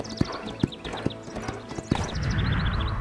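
Hooves clip-clop in quick, regular beats as a horse gallops cross-country in the video game Equestriad World Tour, with a brief whinny-like cue and a louder rushing burst near the end.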